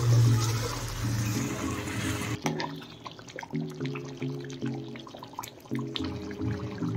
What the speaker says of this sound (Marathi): पाणी गरम करून टाकायचं आहे।